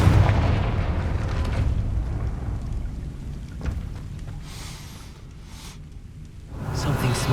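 Confringo fire spell detonating in the Hogwarts Legacy video game, a booming blast with a lingering rumble followed by softer bursts and crackles.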